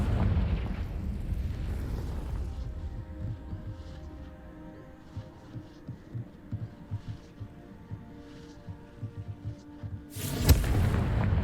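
The Confringo fire spell explodes in Hogwarts Legacy gameplay, a deep rumbling blast at first that fades into low crackling and scattered pops, ending in a second sharp burst, with no speech.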